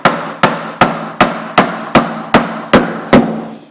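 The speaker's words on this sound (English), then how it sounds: "I'm going to drive it down as far as I can with the mallet." A mallet drives a glued wooden dovetail joint for a table down, nine sharp, evenly spaced blows ringing close and loud at a steady rhythm, each decaying quickly before the next.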